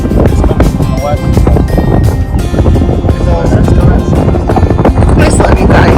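Strong wind buffets the microphone on a boat out on the water, a loud, constant roar that continues under people talking.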